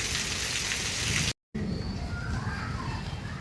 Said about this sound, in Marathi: पहूरसह परिसरात अवकाळी पावसाची सुरुवात